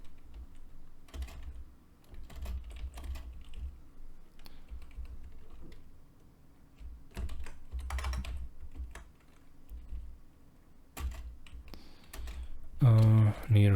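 Steady clatter of computer keyboard typing while writing C++ code, bursts of keystrokes with brief pauses, close and clear, ending in a louder flurry of clicks.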